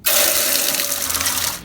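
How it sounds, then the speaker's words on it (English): Hot water gushes steadily from a tap into an engine-parts cleaning hot tank in a shop, a loud continuous rush lasting the whole moment with no talk. "Next to the bore hone is a hot tank with some of the hottest water you've ever touched in your life."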